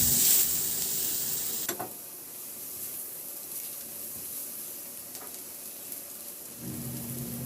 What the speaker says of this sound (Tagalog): Pagkatunaw niyan, ilagay ko na yung bawang. Gisahin lang natin hanggang sa maglabas ng aroma.